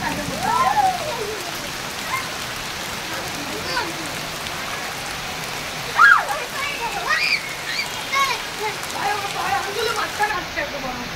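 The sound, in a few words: heavy rain pouring down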